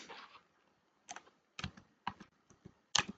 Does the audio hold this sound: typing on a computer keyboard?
yes